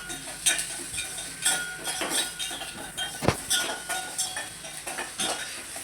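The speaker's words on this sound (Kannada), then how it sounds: "ಸಾರಿ ಇದು ಪಾತ್ರೆ ಬಿದ್ದೋಗ್ಬಿಟ್ಟೈತೆ" A steel cooking pot falls and clatters in a home kitchen while onions fry, giving a sharp metallic crash near the middle among repeated nearby clinks and scraping of utensils.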